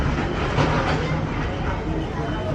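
A state bus on the Lanja–Ratnagiri route pulls into the Lanja depot stop, its engine a loud, continuous, close rumble with no break.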